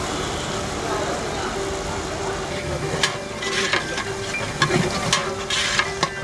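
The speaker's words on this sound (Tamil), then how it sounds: "வெங்காயத்தை வந்து நல்லா ப்ரௌன் கலரில் பொரிய விடணும்" Onions frying in a large pot for chicken biryani, a steady sizzle running throughout with occasional stirring scrapes and clatters, a voice talking over the cooking.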